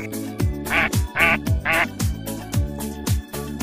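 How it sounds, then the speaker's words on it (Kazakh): A duck quacks in a repeated series of nasal calls, about seven in quick succession, close and clear over a low steady backing. "үйрек,"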